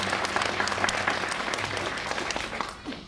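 An audience at a Finnish album-release concert applauds a singer with dense, steady clapping that fills the room, close and loud, tapering slightly at the end.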